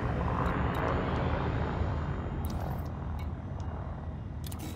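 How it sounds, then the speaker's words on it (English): Frame shift drive charging aboard a scout ship in Elite Dangerous: a steady, broad roaring hum that holds for the whole stretch, dotted with a few short, high electronic blips. "Frameshift drive charging."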